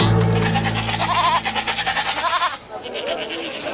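A dying goat bleats in a long, wavering, quavering cry that rises and falls, loud and close, then trails off into a weaker, breathy tail.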